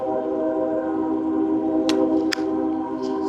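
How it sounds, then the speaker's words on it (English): Steady low rumble of a train with layered harmonic drone, continuous and fairly close, with two brief sharp clicks partway through. "Train is still there."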